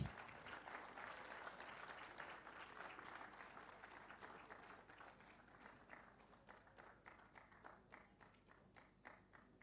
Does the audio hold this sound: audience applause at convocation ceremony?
yes